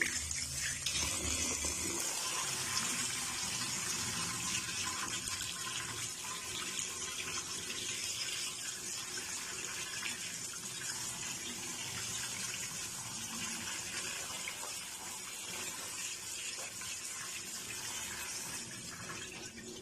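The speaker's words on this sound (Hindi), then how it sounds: "इसके ऊपर ठंडा पानी हम गिराकर इसको अच्छी तरह जो है वो ठंडा कर लेंगे" A steady gush of cold water pours continuously over boiled pasta for a long stretch, close and even, with no voices.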